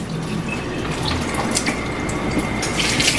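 Hot water runs steadily from a faucet into a sink, a close, continuous splashing rush that holds without pause and with no talk over it.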